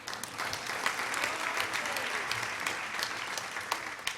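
An audience claps throughout at a live-streamed provincial government event, a dense, steady applause from a crowd of people.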